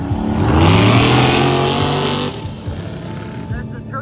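A turbocharged green Jeep races through the mud at a mud jam in Michigan, its engine roaring loud and close, then fading as it moves off, leaving only faint background noise.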